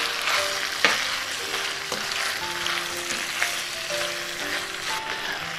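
Pork stir-fried with sliced onions and chili peppers for jeyuk bokkeum gives a steady, loud sizzle, with occasional clicks of a spatula scraping the pan. No one speaks.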